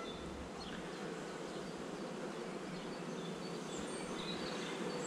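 Honeybees hum in a dense, steady drone while a hive is opened during a spring swarm check, the buzz filling the space evenly and close without pause.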